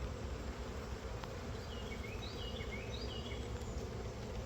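Honey bees buzz around a caught swarm colony in a low, steady drone that stays constant throughout, with a few faint bird chirps in the background and no voices.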